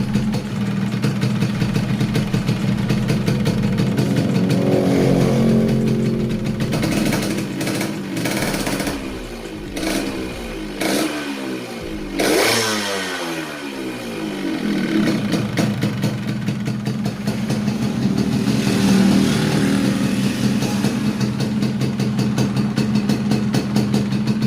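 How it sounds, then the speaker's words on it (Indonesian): A Yamaha RX King two-stroke motorcycle engine runs nearby, its rattly, chattering idle loud and steady, with a revving swell in the middle before settling back to idle. "untuk motornya sudah dalam keadaan hidup"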